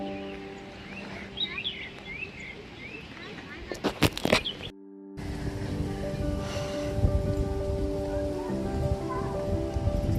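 Rain falls on flooded rice fields during traditional paddy transplanting in Konkan, a steady soft patter with bird calls. A person talks over it, with a few brief louder knocks midway.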